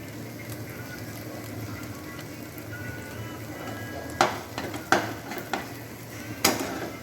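Pointed gourd paste with cashew, raisin and nut paste frying in a pan, a soft steady sizzle that is later punctuated by several sharp clinks of a spatula against the metal.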